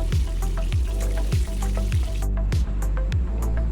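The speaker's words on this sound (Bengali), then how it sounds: "এভাবে সমস্ত চিকেনগুলো লাল করে ভেজে তুলে নেব।" Chicken pieces frying in hot oil, a steady loud sizzle with bubbling and recurring soft knocks or stirring thumps, close up with no talk.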